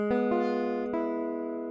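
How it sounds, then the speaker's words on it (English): A few plucked three-string guitar chords on the bottom three strings ring out clearly, struck several times in quick succession early on and then left to sustain and fade. "3 string chords. Just sound like this."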